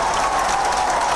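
Dense applause fills a Guayaquil city council session as the new mayor takes her seat, a continuous wash of many hands clapping at steady loudness.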